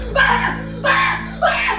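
A man lets out three short, loud screams in quick succession, close and raw, each cry rising then cutting off with brief gaps between.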